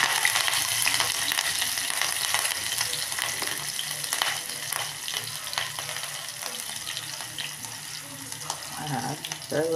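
Green chillies frying in about two spoons of oil with cumin seeds, a bright continuous sizzle with crackles and light spattering, close and fairly loud, with no talking.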